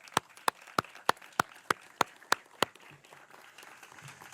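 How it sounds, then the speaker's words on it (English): A small group at an outdoor event clapping in a round of applause; nine sharp, evenly spaced claps ring out near and distinct, then give way to quiet ambient noise. "So round of applause."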